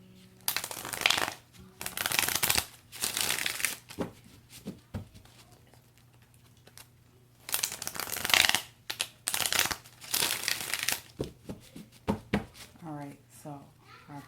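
A Tarot Illuminati card deck being shuffled up close, with bursts of riffling and sliding cards separated by short pauses, several rounds in a row.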